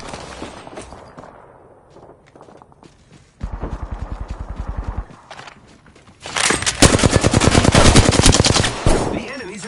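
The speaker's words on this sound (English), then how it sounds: "The enemies are shooting at me." Enemy automatic gunfire in a video game firefight: a short rapid burst, then a louder, longer stream of fast, evenly spaced shots, near and punchy, with brief pauses between volleys.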